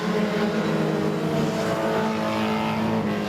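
Junior sedan race cars at Darwin Speedway, a loud continuous engine drone as several cars run together down the main straight, holding steady with slight pitch shifts.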